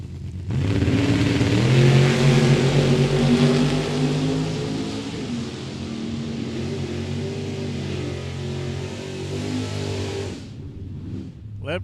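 Drag race cars, a Chevy II and a 1979 Oldsmobile Cutlass, roar off the line at a drag strip in a loud, sustained acceleration that slowly fades over about ten seconds before cutting off.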